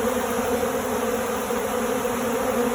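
Honey bees rob a hive damaged in a bear attack, a dense, even buzzing drone of many insects close by, holding steady throughout.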